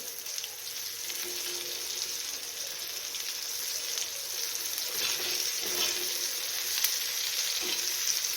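Stuffed green chillies sizzle and crackle in a frying pan, a steady close hiss with occasional soft scrapes as they are turned, no voices.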